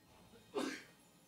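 A single short sneeze bursts out quietly during gameplay, near and brief against a faint background.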